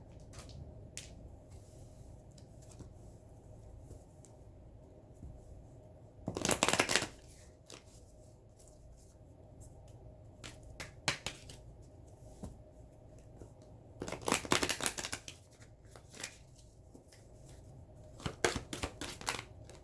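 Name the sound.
shuffling tarot cards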